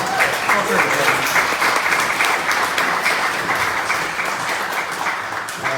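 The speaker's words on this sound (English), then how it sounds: "How about another big round of applause?" Sustained applause from a crowd at a ceilidh, steady clapping throughout with some voices mixed in, fairly loud and close.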